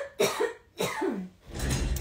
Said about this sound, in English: I have to go cough like a good cough.